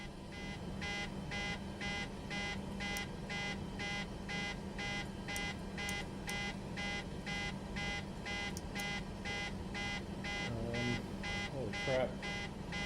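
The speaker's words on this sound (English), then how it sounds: "as soon as I get in the plane, it's already buzzing and beeping" In Microsoft Flight Simulator 2024, a plane's cockpit alarm buzzes in a fast, steady on-off pulse, with higher beeps dropping in now and then; the repeating tone runs unbroken and moderately loud the whole time.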